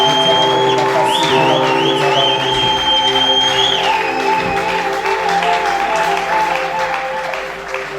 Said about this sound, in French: Acclamons très fort pour le roi de gloire.